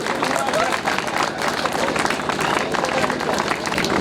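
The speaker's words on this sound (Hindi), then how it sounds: "गुरचरण बेसरा एक और अंतर्राष्ट्रीय जोर तालियां उनके लिए।" Steady applause rises from the audience at a prize distribution for a state-level archery championship in Kasmar, Jharkhand; dense clapping runs throughout, with voices mixed in.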